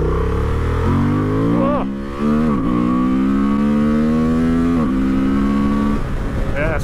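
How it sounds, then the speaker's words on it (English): Honda Transalp motorcycle accelerating with loud airbox roar, engine pitch climbing repeatedly through several gear changes, each marked by a short dip before rising again, with someone talking over the noise. "That's a lot of airbox roar coming through there."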